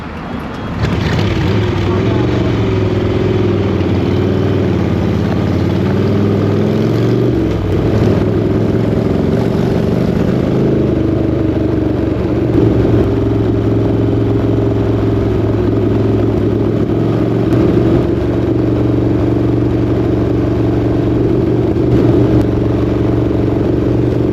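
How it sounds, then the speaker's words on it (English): Harley-Davidson motorcycle engine running loud and close for the whole stretch, a steady low rumble with uneven surges and a rough break near the middle, hinting at backfiring and cutting out while people talk over it. "Bike is backfiring massively."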